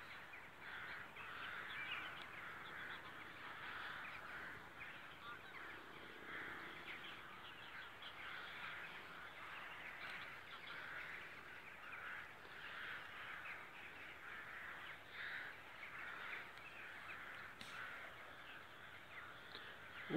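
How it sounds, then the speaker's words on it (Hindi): A steady chorus of crows cawing, many birds calling over one another at a distance, continuous and moderately faint. "ये मजीद कौवे आ रहे हैं उड़ के।"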